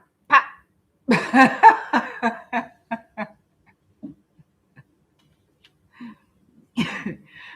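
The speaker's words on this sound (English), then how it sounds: "I'm going to start coughing again." A burst of repeated coughs, then scattered single coughs and throat sounds after pauses, close and fairly loud with silence between.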